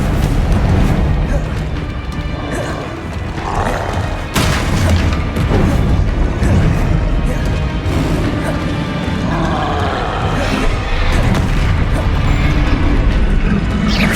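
Repeated Bombarda and Confringo spell blasts in Hogwarts Legacy, heavy booms and crashing impacts layered thickly and continuously with rumbling debris, loud and close, while a voice keeps calling out spell names throughout.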